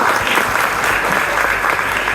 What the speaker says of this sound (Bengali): আমি বসের জন্য একটি হাততালি কামনা করছি